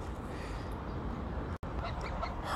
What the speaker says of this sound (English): Man, that sure is a load of geese.